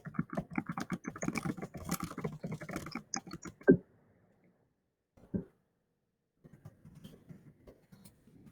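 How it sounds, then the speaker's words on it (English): Rapid clattering keystrokes on a computer keyboard during a typing test, a dense burst of fast typing for about three seconds, then a loud thump, a pause, and a few lighter taps. "make sure that I have my fingers on the keyboard so you can see how fast I can type"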